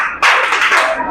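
Children in a class clap hands in a quick, crowded burst, a near, loud patter of overlapping claps lasting roughly a second before cutting off.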